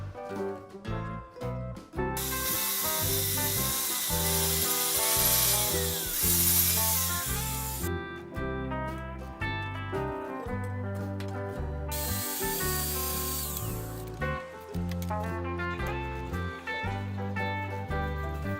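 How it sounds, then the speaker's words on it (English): An angle grinder fitted with a diamond cup wheel levels a concrete porch column outdoors on a windy day, a loud harsh hissing grind that comes in long sustained bursts, drops briefly between passes, and includes rattling knocks. "Now I've switched to a diamond cup wheel to try to level all this out."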